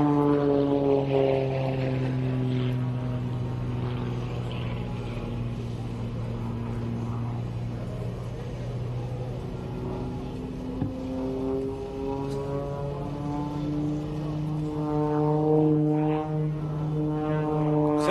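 A propeller airplane flies aerobatic maneuvers at the Warriors Over the Wasatch air show, its loud droning engine note sliding up and down in pitch as it swoops and turns.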